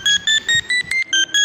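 A phone rings with a rapid series of bright electronic beeps in short, evenly spaced bursts, loud and close, with no talking.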